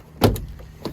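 The reverse-hinged side door of a 2019 Honda Pilot EX wheelchair van, a VMI NorthStar manual side-entry conversion, swings open with a solid unlatching thunk followed by a second softer clunk near the end.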